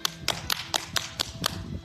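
Hands clapping against the body in a steady run of about seven sharp, even slaps, close and clear with no talking.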